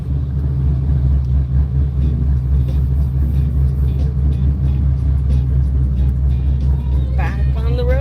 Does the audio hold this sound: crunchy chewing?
no